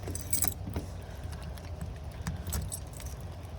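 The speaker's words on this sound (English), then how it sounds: "let's see if the keys they gave me open this door. I have a lot of keys for this house." A large bunch of house keys jangles and clinks at a house door, with bright metallic rattles that come and go against quiet outdoor background noise.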